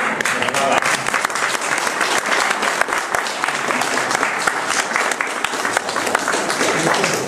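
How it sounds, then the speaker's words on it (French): Sustained applause from a large crowd at the Saint-Michel feast in Bilzesi, steady and dense clapping throughout, loud and close, with faint voices mixed in. "J'aimerais qu'on applaudisse à Saint-Michel."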